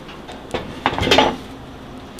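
A metal muffin tray of ricotta raspberry muffins is pulled from an oven, giving a short cluster of clanks and scrapes in a quiet kitchen.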